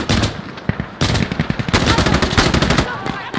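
Loud, close gunfire from the Insurgency Sandstorm video game, with dense automatic bursts and sharp single shots rattling almost continuously.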